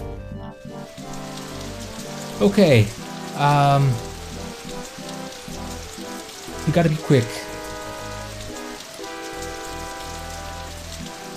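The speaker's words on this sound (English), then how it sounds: "The dragon chokes back his attack with a comic gurgle and disappears behind sheets of rain." Steady heavy rain patters throughout in the game Death Gate, with a tonal game soundtrack underneath and a voice speaking briefly a few times.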